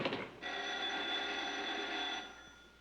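An office telephone rings in one sustained electric burst of about two seconds. It is fairly loud and heard alone, then cuts off and leaves quiet room tone.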